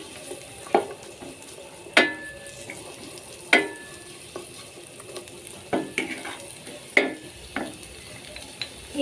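Capsicum stirred in a frying pan for fried rice, gentle sizzling beneath repeated sharp clacks and scrapes of a spatula on metal, spaced about a second apart, up close.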